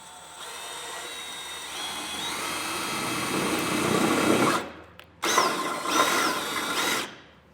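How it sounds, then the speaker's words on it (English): A power drill bores a 5/16 inch hole during installation of Air Lift 1000 air helper springs on a 2023 Toyota 4Runner, whining loud and close for several seconds before briefly stopping, then spinning again in a shorter burst. "so I'm going to drill a 5/16 hole."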